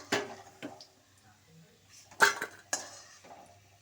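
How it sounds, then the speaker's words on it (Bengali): Fried cauliflower-egg fritters lifted into a bowl, sparse clinks and knocks of a metal utensil against dishware, with quiet pauses between the close, sharp contacts. "আমি ভেজে দেখো এগুলো তুলছি একটা বাটিতে"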